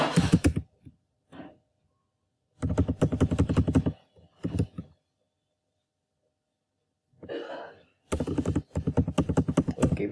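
Code being typed on a computer keyboard in rapid bursts of clicking keystrokes, separated by pauses and a few isolated taps, close and clear.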